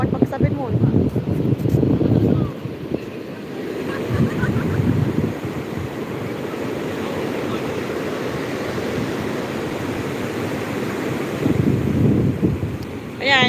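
Sea waves wash in at a beach on Good Friday, a steady broadband rush with heavy wind buffeting the microphone, while nearby people talk and call out over the surf.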